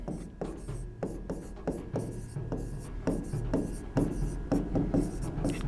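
Repeated scratchy strokes of writing on a board during a vocabulary lesson, a steady run of short rasping marks at close range, with no talking over them.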